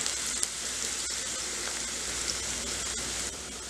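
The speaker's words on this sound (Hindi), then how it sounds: "2 कड़छी हमने इसमें बारीक कटा हुआ प्याज डाल दिया है। इसको भी हम गोल्डन ब्राउन कर लेते हैं।" Finely chopped onions fry over high heat in oil for a hotel-style dal tadka, a dense, steady sizzle with light crackle heard close up and alone throughout.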